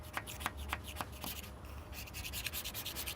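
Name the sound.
scuffing painted van roof with a Scotch-Brite pad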